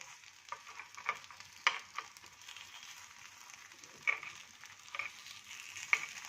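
Green fenugreek (methi) snacks frying in an oiled pan and being turned over, giving a soft, steady sizzle broken by a few sharp ticks and scrapes of flipping.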